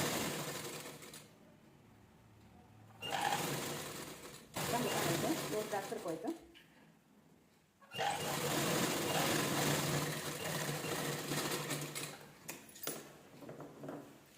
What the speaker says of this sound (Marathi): व्यवस्थित स्टिच करून घ्यायचं फक्त धरताना एक लेवल धरायचं जेणेकरून तिरकं जाऊ नये